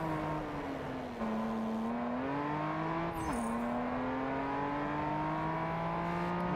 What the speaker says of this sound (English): I don't think the cars sound really nice at all.